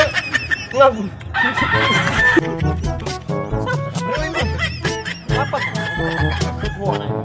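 A rooster crows loudly and repeatedly, with clucking hens and other fowl around it and some voices in the background.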